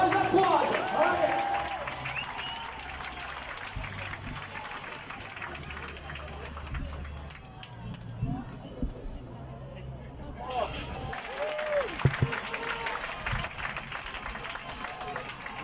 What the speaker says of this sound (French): On applaudit s'il vous plaît la première en face, on les encourage.